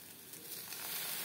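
Rice batter for chitoi pitha sizzling in a pan, a steady close crackling fry with bright hiss throughout and no talk.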